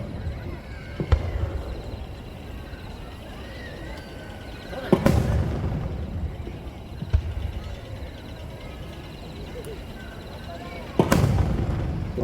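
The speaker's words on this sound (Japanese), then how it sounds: "錦という花火。" Nishiki brocade fireworks at the Nagashima Onsen fireworks display burst in three loud, well-spaced booms, each followed by a crackling, rumbling tail over steady crowd and background noise.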